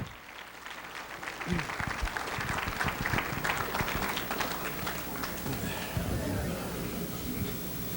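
An audience in Denver greets a speaker at a talk on sacred pilgrimages with a warm round of applause, starting lightly and swelling into steady, moderately distant clapping mixed with some crowd voices.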